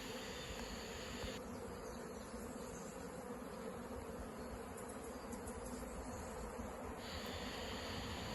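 Honey bees from a swarm climb up a hive wall to enter from the top, giving a continuous dense buzzing drone, steady and close, with no voices.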